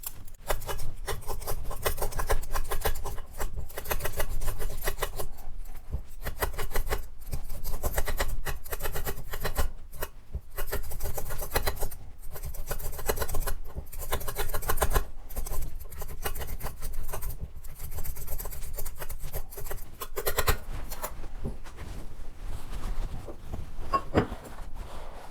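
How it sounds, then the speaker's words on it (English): A raw potato is peeled for a smoked mackerel and corn chowder, producing close, continuous rasping scrapes in quick repeated strokes with no talking. "Then peel the potato."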